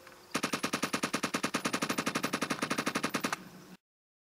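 Rapid, steady machine gun fire from a first-person shooter game, a loud continuous burst of evenly spaced shots lasting about three seconds before cutting off abruptly.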